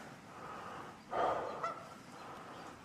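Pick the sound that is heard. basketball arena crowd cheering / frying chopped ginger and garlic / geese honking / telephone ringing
geese honking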